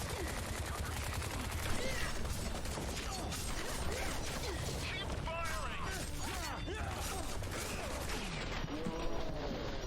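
Gunfire and clattering mechanical action in the video game Onimusha Warlords, with scattered shots over a steady, busy game soundscape of metallic creaks and ratcheting.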